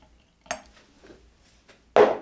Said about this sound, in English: Give it a little gentle stir